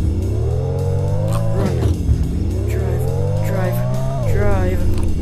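A car in the video game Thief Simulator drives off, its engine note rising and dipping in a steady, continuous drone, heard close and loud beneath a person talking.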